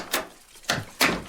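A door opens as someone storms in, three sharp whooshing bursts in quick succession, close and fairly loud, with no talking.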